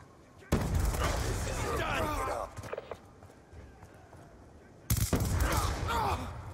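Shotgun blasts from Call of Duty Black Ops 2 played on PS3: two loud, sudden booms several seconds apart, each followed by a rumbling tail and scattered game noise between them.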